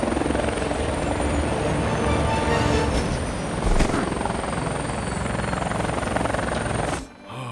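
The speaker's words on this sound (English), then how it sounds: "Hey, I just fly the chopper." Cartoon helicopter in flight, a loud continuous rotor chop and engine roar held steady and close for several seconds before cutting away abruptly near the end.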